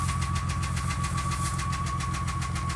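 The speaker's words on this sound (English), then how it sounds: "But there's knocking noise." A 2003 Jeep TJ engine runs with a steady rhythmic knocking, a fast regular tapping over a constant low rumble and a high whine, close and unbroken.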